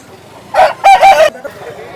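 A year-old rooster at the Vijayawada rooster market lets out a loud, close crow in two bursts, with faint market background around it.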